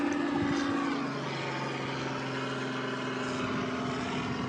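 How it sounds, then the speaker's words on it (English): Steady droning rotor and engine noise from a helicopter overhead, fairly loud and constant, with no talking. "there's a helicopter"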